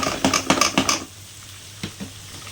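One large chopped tomato goes into a hot pan for a village-style country chicken curry, giving about a second of rapid sizzling and stirring clatter, then a quieter steady sizzle with a couple of light scrapes.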